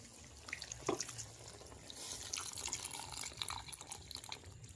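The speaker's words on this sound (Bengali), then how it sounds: "এবার পরিমাণ মতো জল দিয়ে দেবো" Water pours into a pot of chicken ghugni, a soft, close trickle and splash running for several seconds with a few brief drips and clinks, and no talking.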